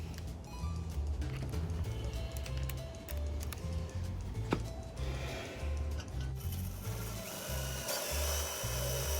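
Power drill boring a small pilot hole before stepping up to a bigger bit, fitting a temperature gauge to a Weber grill; steady close whirring drone with a few brief clicks, no talking.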